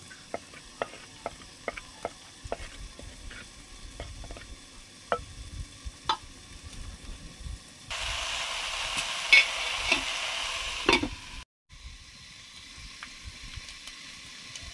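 Dry red chillies frying in mustard oil, a soft sizzle with scattered stirring clicks that swells into a louder, denser crackle midway before a brief drop to quiet.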